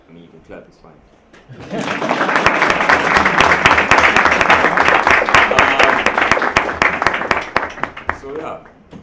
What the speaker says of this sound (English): I mean, you can clap, it's fine.